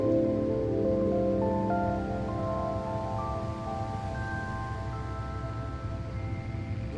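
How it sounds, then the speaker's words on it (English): Rain in Microsoft Flight Simulator on a Delta Airlines A350 flight from Atlanta to Los Angeles, a steady hiss of rainfall over a low engine drone and faint tonal cockpit hum, continuous and even with no talk. "I thought that was snow. It's rain."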